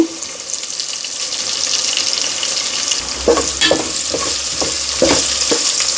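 Black-eyed pea curry with turmeric and salt being mixed in a pan: a steady sizzle throughout, with wet scraping stirs and clatters growing busier in the second half.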